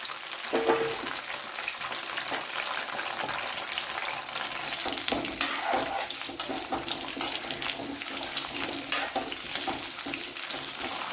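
Washed gooseberries hiss and sizzle as they fry in about three tablespoons of sesame oil for a Kerala gooseberry pickle, a steady crackling fry with occasional stirring and clinks close by.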